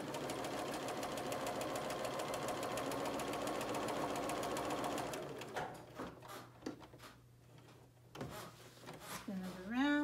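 Sewing machine stitching cloth napkins runs in a fast, steady mechanical rattle for about five seconds, then stops, leaving scattered handling clicks and a brief voice near the end.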